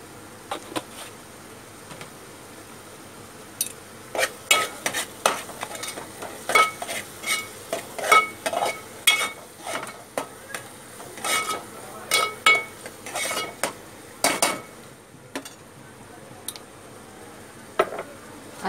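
Cluster beans with spices and masala being stir-fried in a pan, a low steady sizzle under repeated sharp scraping strokes of a spatula, irregular and close, continuing through the whole stretch without talk.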